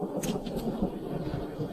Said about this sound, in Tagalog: Buwisit na panahon to, bigla-bigla na lang ulan.